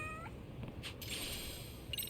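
A cat in the game Lost Judgment gives a couple of short meows, faint and fairly close, with a quiet background between them.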